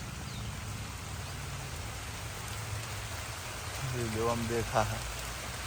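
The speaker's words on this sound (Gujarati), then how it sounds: "આ બાજુ ચાલુ થઈ ગયો વરસાદ, જોઈ લ્યો" Steady rain pours down in a continuous, even hiss throughout, with a voice speaking briefly near the end over the downpour.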